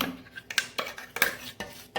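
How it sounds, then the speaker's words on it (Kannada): Spoon clinking and scraping against a metal vessel as ground millet dosa batter is transferred, a series of short, sharp metallic taps and scrapes heard close up with no talk. "ಈಗ ಇದನ್ನೊಂದು ಪಾತ್ರೆಗೆ ಟ್ರಾನ್ಸ್ಫರ್ ಮಾಡೋಣ."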